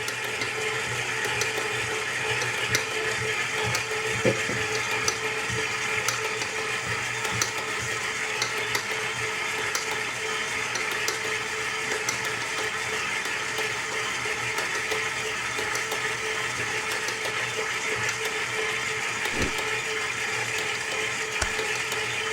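A stand mixer on speed 2 kneads sourdough focaccia dough with a steady, moderately loud mechanical whir and hum, plus occasional soft knocks, running continuously with no talking.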